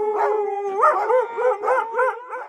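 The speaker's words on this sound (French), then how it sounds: "Des chiens aboyèrent." A dog barks and howls in quick, yelping bursts, several tonal cries repeating in a short, close, clear sequence with nothing else around.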